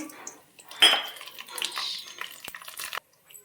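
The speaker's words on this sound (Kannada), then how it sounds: "ಇವಾಗ ಶೇಂಗಾ ಬೀಜ ಹಾಕೋಣ." Peanuts tumble into a pan already holding oil, urad dal, cumin and mustard seeds for avalakki, giving a close rattling clatter and scraping that builds then stops abruptly, leaving near silence.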